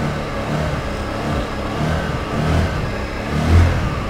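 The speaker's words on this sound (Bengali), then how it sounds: "দেখেন বাইকও স্টার্ট নিছে" A motorbike engine started without a key runs at a close, loud, steady rumble with gentle rises in revs, no voices over it.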